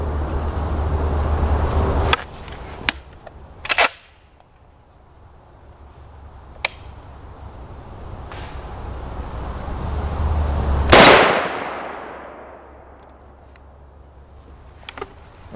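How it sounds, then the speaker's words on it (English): A rifle fires a 7.62x51mm Israeli armor-piercing round at an Armour Wear AR680 Level III+ body armor plate outdoors. A few lighter sharp knocks come first, then one loud crack with a long fading echo. "So we'll take 1 more shot with the Israeli AP."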